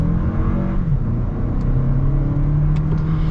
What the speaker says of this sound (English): So here, we'll get our acceleration now.